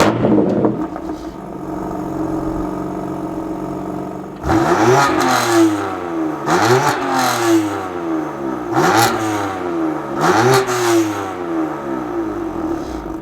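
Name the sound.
San Marino Blue BMW M4 CS engine accelerating while driving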